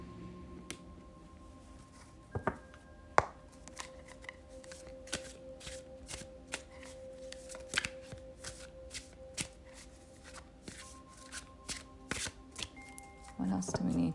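A deck of tarot cards being shuffled by hand, with repeated crisp riffles and soft flapping bursts at close range, fairly quiet and steady throughout.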